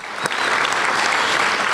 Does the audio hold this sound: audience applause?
yes